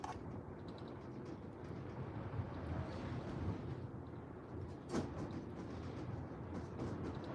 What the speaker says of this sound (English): The wind today is just obnoxious.